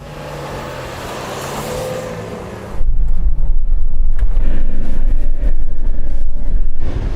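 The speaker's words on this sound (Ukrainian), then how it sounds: "Простий драгрейс на рівній ділянці до перетину конусів." A Toyota Land Cruiser with a locked differential launches in a drag race down a flat stretch: a quieter idle, then a sudden loud, sustained engine roar as it accelerates hard, with no talking.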